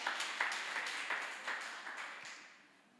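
A church congregation claps together, a brief burst of scattered, reverberant applause in a large room that thins out and fades over a few seconds, heard without voices.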